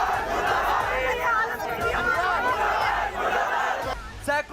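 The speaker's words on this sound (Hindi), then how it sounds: "भीड़ के साथ परिवार सड़क पर प्रदर्शन कर रहा है" Street protest crowd in India, a family joined by a dense mass of people shouting and chanting together, a loud continuous roar of overlapping voices with rising cries, close and filling the scene.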